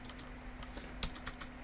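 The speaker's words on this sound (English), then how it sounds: "pressing F on my keyboard." Several crisp, quiet clicks of a PC keyboard key being pressed, with no voices, while the Farming Simulator 22 game runs.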